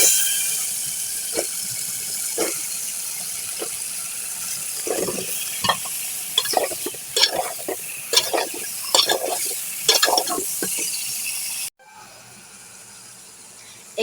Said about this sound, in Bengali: এখানে আমি লাউ তরকারিটা ভালো করে কষিয়ে নেব।